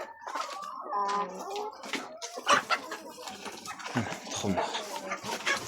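Andijan black hens, nine to ten months old and laying, cluck and call in short bursts close by, mixed with scattered rustling, while a person speaks briefly.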